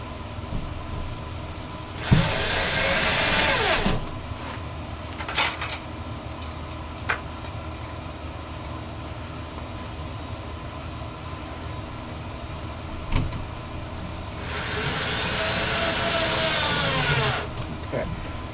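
A power drill drives screws in two separate bursts a few seconds each, securing a metal bracket to wall anchors, with quieter handling noises and light talk between them.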